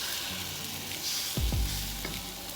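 Food sizzles in a hot wok while a utensil stirs and scrapes it around, with a couple of louder knocks against the pan midway over a constant frying hiss.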